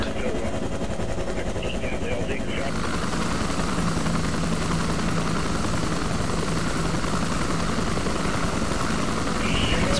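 Helicopter rotor thumping steadily and loudly throughout in the ARMA 2 Vietnam mod war game, a continuous engine drone alongside game sound effects.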